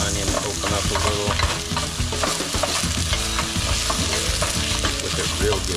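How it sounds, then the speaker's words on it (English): Pot roast meat browning in a pan with onion and herbs, producing a loud, dense, continuous sizzle with steady stirring and scraping, close up and unbroken, with no one talking. "And we're just browning it, we're not cooking it"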